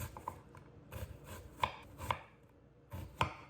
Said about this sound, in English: sliced an onion